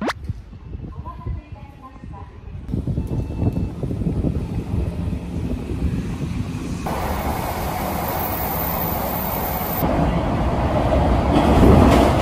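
Rumbling train ride during a transfer between trains, with a steady low roar of wheels and rails that swells louder toward the end and carries a faint whistling hiss above it, with no talk.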